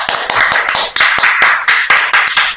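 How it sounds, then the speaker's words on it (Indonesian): A small audience claps at an Indonesian book-discussion event about Atomic Habits. Sharp individual hand claps stand out over a softer layer of general applause in an uneven, close rhythm. "Tepuk tangan buat kita semua."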